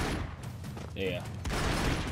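Rapid gunfire crackles in the Broforce video game, a dense fusillade of shots and explosions filling the short stretch, with a voice briefly audible in the middle.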